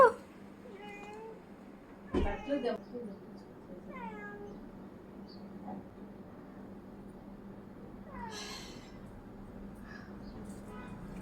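A cat meows several times in short, separate calls at a moderate distance against a quiet room hum, with a brief knock early on.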